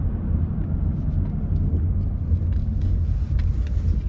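A 2024 Ford Mustang GT accelerating hard in drive with an automatic transmission, giving a steady, loud, low engine rumble that holds constant throughout, heard from inside the car with no talking.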